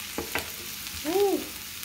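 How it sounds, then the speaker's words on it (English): Onions and garlic fry in a pan for a shepherd's pie, a soft steady sizzle broken by a couple of quick stirring scrapes and a brief squeaky tone, close and without talk. "Onions cook on there."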